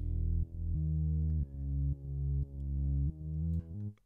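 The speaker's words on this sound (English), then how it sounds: "So a lot of reverb sounds like this." Deep bass guitar notes played one after another, each swelling and ringing out with a heavy, roomy reverb tail; no voices.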